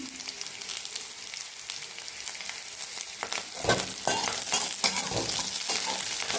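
Shallots and curry leaves sizzle and crackle in hot oil in a pan, with stirring scrapes joining partway through, a steady close frying hiss and no talking.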